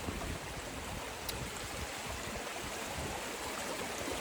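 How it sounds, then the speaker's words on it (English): A creek flowing on private hiking land, a steady broadband rush of moving water filling the whole stretch at an even level, close and continuous with no voices. "Crossing the creek is always the dilemma."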